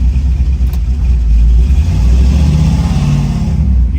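A car engine running rough, with a loud, close, uneven low rumble that wavers and surges slightly throughout the four seconds, with no talk over it.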